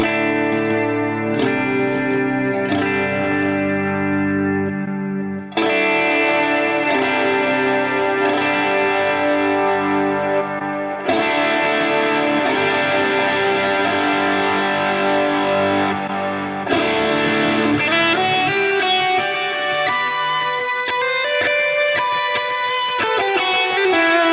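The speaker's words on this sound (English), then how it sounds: "handle all variations of gain, from clean to heavy distortion" Electric guitar playing chords and riffs, moving from a clean tone to increasingly crunchy, heavily distorted sections with ringing sustain.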